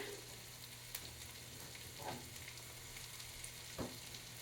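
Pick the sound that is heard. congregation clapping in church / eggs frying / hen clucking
eggs frying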